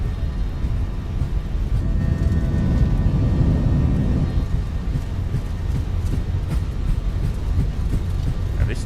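An Airbus A321 takes off in a flight simulator, with a steady, loud broadband engine roar that holds at full power throughout and never drops out.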